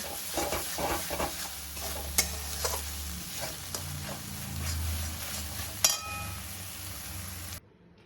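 Fried lote fish jhuro with chopped coriander and lime juice is stirred in a pan, with repeated close spatula scrapes and taps over a soft, continuous sizzle and a low background hum, without any voices.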